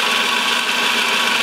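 An engine held at 1500 RPM during its warm-up idle, on a setup with a scavenge pump, runs as a steady, loud, even drone with a fine vibrating texture throughout.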